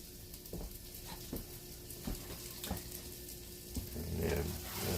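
Pork chops with Cajun seasoning sizzle and saute in a frying pan, a steady soft crackling hiss with occasional stirring clicks and scrapes, fairly quiet and with no talking.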